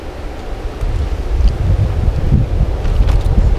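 Strong wind gusts beside the Malico river at a riverside motorcycle campsite, a loud, continuous rumbling roar buffeting the microphone with no voices.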